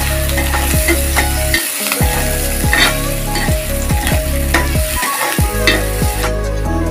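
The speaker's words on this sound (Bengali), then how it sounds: "একটু লাল লাল করে ভেজে নিলাম।" Chapila fish with chopped garlic frying in hot oil in a pan, a loud, continuous crackling sizzle close up, broken by rhythmic scraping and stirring clicks of a utensil.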